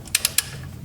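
A ratchet wrench clicking against a seized 1974 Ford Pinto engine, three sharp quick ratchet clicks in under half a second, close and alone.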